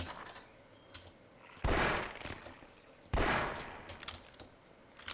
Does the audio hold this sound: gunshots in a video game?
yes